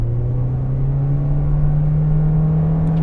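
A 2-liter hybrid car with a continuously variable transmission accelerates with a steady, smooth hum whose pitch rises slowly and evenly, sounding close and fairly loud with no gear changes.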